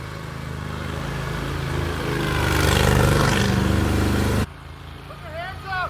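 An Argo amphibious ATV engine runs with a steady, loud, close mechanical drone before cutting away abruptly, leaving quieter background sound with some speech.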